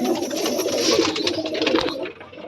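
Close, continuous pigeon cooing and fluttering bird sounds from pigeons fitted with small bells, fairly loud, with the noise dropping off near the end.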